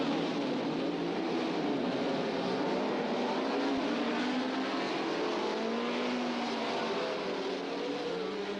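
Formula One Grand Prix cars racing at the 1967 Canadian Grand Prix at Mosport, their engines a continuous layered roar of revving and passing cars, steady and fairly distant with no talk.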